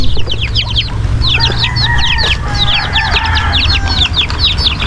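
Chicks and chickens cluck and peep busily while being moved to a new coop, with rapid high chirps over a steady background rumble, close and fairly loud.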